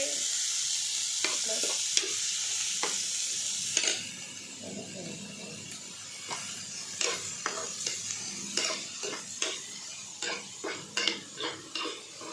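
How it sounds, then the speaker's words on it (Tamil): Chopped snake gourd with onion frying in a pan, a soft sizzle under a series of sharp metal spoon scrapes and clanks against the pan, quickening and growing louder toward the end, with no talking. "நல்லா கிண்டி விட்டுட்டு மூடி வச்சிருக்கேன்."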